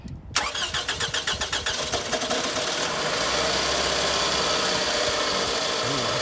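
A car engine at a local auction cranks in a rapid series of loud starter chugs, then catches roughly and settles into a steady, uneven rumbling idle, close and alone.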